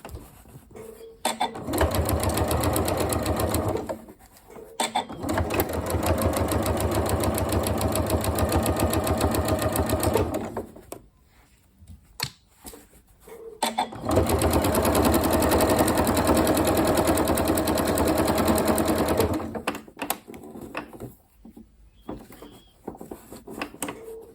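A sewing machine stitches a ghost-shaped cushion in loud, close, steady runs of rapid chatter, separated by short pauses, with no talking.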